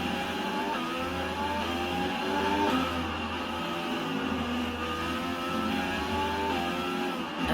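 A Formula 1 car engine in the F1 2020 racing game whines at high revs with steady rising and falling gear tones, loud and continuous under the driver's view.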